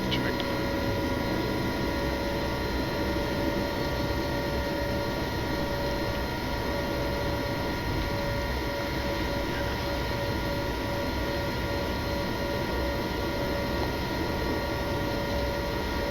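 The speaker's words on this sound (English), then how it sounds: "We are clear for takeoff, right?" Boeing 787-9 jet engines on a runway at Heathrow, a steady loud broadband roar with a sustained tonal whine, heard from inside the cockpit for a constant stretch without rising pitch.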